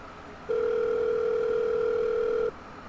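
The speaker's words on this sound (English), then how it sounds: "And it's ringing." Phone ringing during a roleplay video game call, heard as a single steady electronic tone lasting about two seconds, clean and close, with quiet background before and after.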